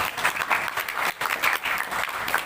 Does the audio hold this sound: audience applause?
yes